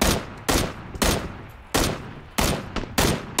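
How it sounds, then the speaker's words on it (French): Repeated loud gunfire in the PUBG video game: six sharp shots in quick succession, each followed by a short decaying tail, close and without talk. "je me fais tirer dessus"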